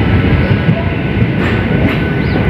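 Train pulling into the first platform at Jagtial railway station, a loud, continuous rumble of wheels and rolling carriages close by with a faint squeal, no talking.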